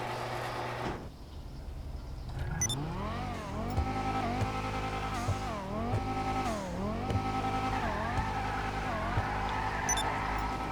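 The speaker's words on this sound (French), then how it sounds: "Ah, le petit bruit du moteur aussi, il est pas mal." A simulated car engine in GTA V on PC revs up and down repeatedly, pitch rising and falling in sweeps, loud and continuous with a brief quieter start.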